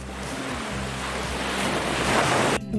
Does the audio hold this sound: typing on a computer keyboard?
no